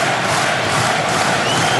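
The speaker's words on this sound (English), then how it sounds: "Listen to the crowd." A packed arena crowd roars and cheers at a professional boxing match between Danny Green and BJ Flores, a dense, steady wall of voices close and loud throughout.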